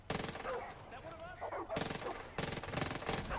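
SMG gunfire in Far Cry 5, heard as rapid automatic bursts: a short burst at the start, then two more clustered bursts later, loud and close, with a brief lull of game sounds between them.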